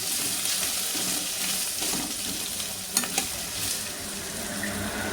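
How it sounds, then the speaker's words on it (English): Small cut pieces of okra (lady's finger) fry in a pan over a medium flame, giving a steady, close sizzle with a couple of brief clinks from stirring. "we have to cut this lady's finger like this, small pieces, and fry well for 10 minutes in the medium flame only"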